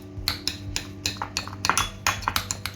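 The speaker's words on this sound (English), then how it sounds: "Grab 2 spoons and attack the tuna. Smash it, destroy it, break it, no mercy." Two metal spoons mash canned tuna in a bowl, giving a quick run of sharp clinks and scrapes, close and fairly quiet, with no talking.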